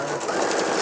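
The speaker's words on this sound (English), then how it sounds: "I'm going to sew all the way around," A sewing machine stitches around fabric for a car tablet holder and organiser, a brief close steady mechanical whirr with no pauses or voices.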